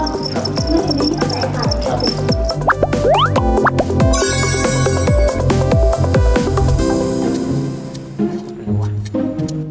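Crickets in a commercial smart cricket-rearing box keep up a dense, loud chirping throughout, layered with busy clicks and a steady high whine from the setup.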